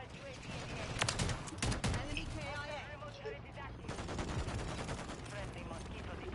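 Rapid gunfire fills a cramped shooter-game map called Shipment: bursts of close automatic shots and scattered single reports, with a voice talking over the fighting.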